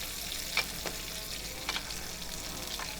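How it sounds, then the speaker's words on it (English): Steak sizzles steadily in a hot pan while being basted with rosemary and garlic, a constant frying hiss broken by a few brief spoon scrapes and spatters. "Just want to baste it. Just keep basting it."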